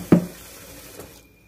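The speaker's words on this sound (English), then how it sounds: "now rinse off the spatula a little bit" A kitchen tap runs briefly to rinse a spatula while baking a pineapple creme casserole, a short close splash of water that starts abruptly and fades within about a second, with no talking.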